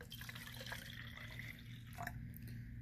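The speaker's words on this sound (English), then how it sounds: "We're going to pour it in." A cup of water poured into a container, a soft, steady trickle and splash of liquid close by, quiet and alone without talk.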